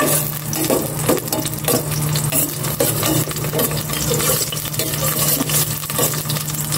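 Garlic sizzles in hot cooking oil in a pan, a loud, dense frying hiss close by, broken by scrapes and clinks from stirring.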